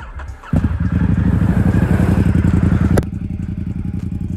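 A custom Ducati XDiavel motorcycle starts up close by, the engine catching into a loud, rapid throbbing idle through its exhaust, then dropping to a slightly quieter steady pulsing burble.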